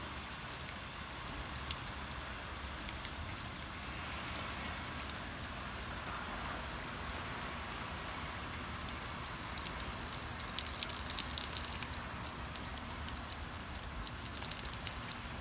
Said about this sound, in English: Spray our nice gentle rain.